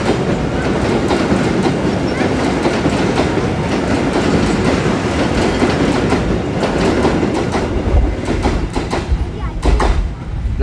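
A special train runs along the rails near Rancaekek, its loud, continuous rumble and rapid clickety-clack of wheels passing close by for the whole stretch.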